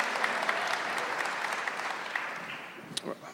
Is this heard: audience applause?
yes